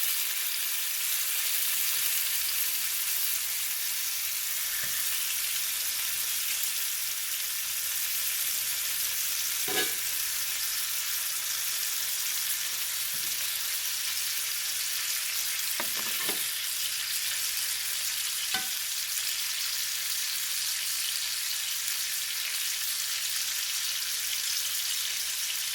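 Butter pieces and beefsteak sizzle steadily in a hot pan, a constant soft hiss with a few faint clicks and pops, no voices over it.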